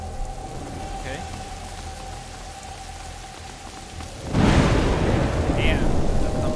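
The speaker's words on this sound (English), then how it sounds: "Yeah, that thunder is nice." Thunder crashes in rain in A Plague Tale: Innocence, mountain setting: steady rainfall hisses throughout, then a loud, close thunderclap bursts about two-thirds through and rumbles on to the end.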